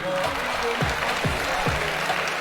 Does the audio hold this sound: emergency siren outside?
no